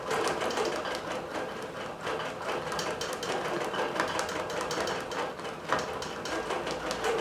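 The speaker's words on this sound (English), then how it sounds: "the machine is basically moving underneath, so it's lifting as it sews." Digital quilting sewing machine stitching a butterfly row on a quilt, a steady fast mechanical whirring and rattling hum heard up close and continuous, with no voices.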